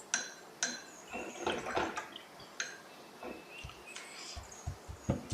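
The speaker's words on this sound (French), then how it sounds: "je vais rincer mon pinceau" A paintbrush being rinsed in a container of water, with close, light splashing, swishing and dripping in short irregular bursts, heard alone without talk.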